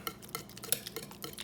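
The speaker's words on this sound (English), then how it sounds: "Let's give that a quick mix." A utensil stirs strained pumpkin puree in a mixing bowl, giving quick, close scraping and light clinking strokes in an uneven rhythm with no talking.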